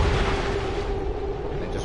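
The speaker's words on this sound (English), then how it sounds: "The shockwave of that explosion reverberated throughout most of the city." An explosion in XCOM 2, heard as a dense, loud rumbling roar that stays sustained for almost two seconds without a sharp onset, like a lingering blast aftermath.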